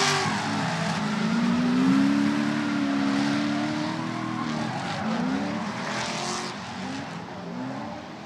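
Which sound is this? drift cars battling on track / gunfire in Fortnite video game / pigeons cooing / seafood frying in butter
drift cars battling on track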